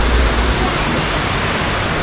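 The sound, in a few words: heavy rain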